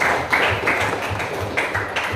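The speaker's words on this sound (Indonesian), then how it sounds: "Oke, tepuk tangan untuk temannya" A classroom of students clapping for a classmate, a steady round of mixed claps and taps at moderate loudness lasting about two seconds.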